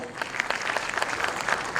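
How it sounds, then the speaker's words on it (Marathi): Audience clapping for the parents at a children's Marathi stage performance event, a steady wash of many hands applauding together, moderately distant and fairly soft, with no voices on top. "त्यामुळे या सगळ्या पालकांसाठी एकदा आपण टाळ्या वाजवूयात."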